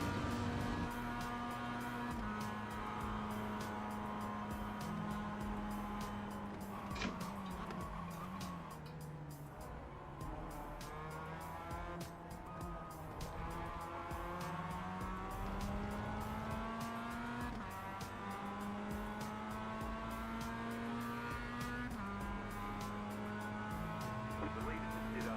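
Mazda MX-5 race cars lap Spa in iRacing, the engine droning steadily and shifting pitch through gear changes and braking, with other cars faintly alongside and a commentator talking over it throughout.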